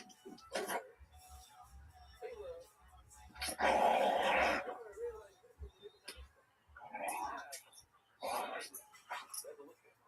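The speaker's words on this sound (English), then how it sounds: "dog looks so sweet, but at least from a sound standpoint, sounds very, very upset" A dingo whimpers and yelps in upset, uneven bursts close by, mixed with people talking over it.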